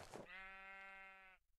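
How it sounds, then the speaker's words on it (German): A single sheep in the Minecraft video game gives one drawn-out bleat, clear and tonal, lasting about a second before cutting off into quiet. "Das war mein lautes Schaf."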